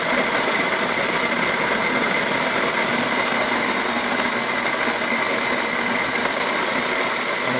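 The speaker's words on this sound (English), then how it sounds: "So now we're making a very coarse grind." Coffee grinder set to a coarse grind, crushing beans with a steady, loud mechanical whir that holds constant from start to finish.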